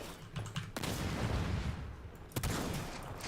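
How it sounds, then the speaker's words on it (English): Explosions and blasts crack out in the dinosaur shooter Second Extinction, two sharp bursts followed by sustained rumbling roar, loud and close with no talk. "Boom, explosion."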